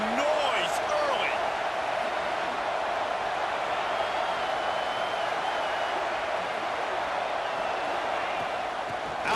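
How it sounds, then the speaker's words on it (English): A stadium crowd in the video game College Football 26 roars steadily throughout, a dense, even wash of noise with a game commentator talking over it. "This crowd bringing the energy and noise early."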